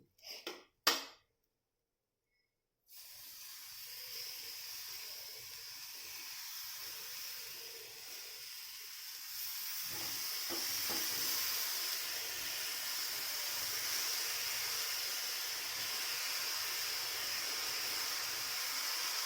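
Chopped sefu greens hit hot oil with garlic and cumin tempering, giving a sudden loud sizzle after a couple of brief clatters, then a steady hiss that keeps crackling on for many seconds.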